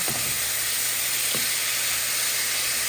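Food fries in a generous amount of mustard oil with a steady, close hiss and sizzle; a couple of soft stirring scrapes come early, then the sizzle carries on alone.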